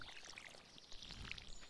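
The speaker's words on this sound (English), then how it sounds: "Let's see if I've got enough water in here to water the 3 of them." Water pouring from a watering can onto crops in the farming video game Stardew Valley, a soft brief splashing trickle with sparkly chimes, faint and close, with no talking.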